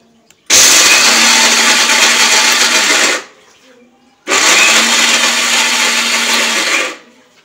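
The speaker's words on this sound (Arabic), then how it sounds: "دابا غادي نطحن اللوز" Electric grinder pulverising almonds, two loud steady whirring bursts of about three seconds each, close up, separated by a short pause.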